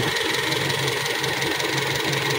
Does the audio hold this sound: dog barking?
no